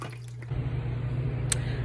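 Water pours into a blue raspberry shaved ice cup, a steady liquid splash and trickle with a brief sharp clink partway through, close and moderately loud.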